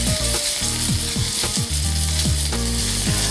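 Pancetta grilling on a griddle plate, a loud, dense sizzle close up with repeated scraping strokes across the metal.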